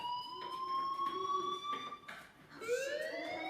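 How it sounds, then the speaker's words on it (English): Loud repeating electronic fire alarm tone in the Life Is Strange video game, a steady pulsing wail that sweeps upward near the end. "Hey, do you hear that fire alarm?"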